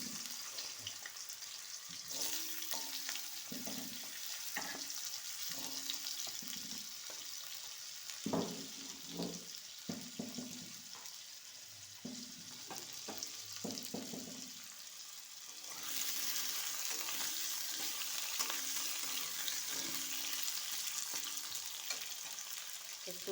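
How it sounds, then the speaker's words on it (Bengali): Cut pumpkin and potato pieces fry in a pan after the tempering, producing a constant close sizzle broken by intermittent spatula stirs and clatters, the hiss swelling louder toward the end. "একটু ভাজা ভাজা করে নেব।"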